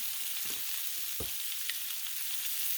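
Garlic sizzles on a Blackstone griddle, a steady bright hiss close by, with a couple of soft scraping knocks from a utensil and no speech.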